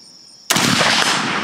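Rifle fired at a long-distance target, a single sharp, loud shot close by that cuts through a quiet background and rings out briefly afterward.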